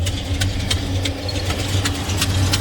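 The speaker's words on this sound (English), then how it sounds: "So, cylinder one, that's the exhaust in cylinder one." A 1974 Plymouth Road Runner idles with a steady low rumble and a loud, close exhaust note, with sharp ticking bursts from one cylinder recurring at a regular beat throughout.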